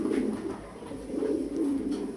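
Pigeons cooing at a pigeon farm, a continuous low warbling coo from several birds close by, rising and falling without a break.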